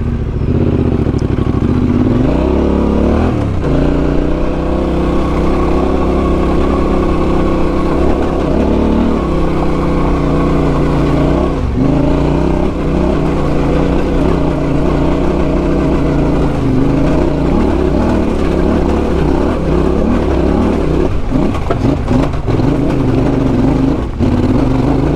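A Yamaha Tenere 700 adventure motorcycle pulls away in second gear, its engine note loud and close, rising and settling through steady throttle changes with a few brief dips in revs.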